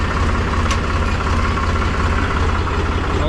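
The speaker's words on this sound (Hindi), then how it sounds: "मुझे देखो 9 महीने बाद ट्रैक्टर चला रहा हूँ मैं" A tractor engine runs steadily and close, a loud continuous low diesel throb with a knocking pulse, while it is being driven in first gear in a village.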